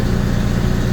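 A 1977 Corvette engine idles at about 1,700 RPM, a loud, steady, close low rumble with an even pulsing throb throughout.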